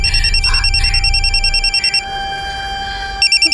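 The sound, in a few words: mobile phone ringing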